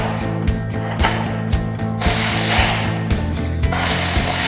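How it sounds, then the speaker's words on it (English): Power screwdriver driving screws into AusSteel steel wall frame parts, a loud close rhythmic ratcheting whir with brief pauses between screws. "we will just twist them in and then screw them on"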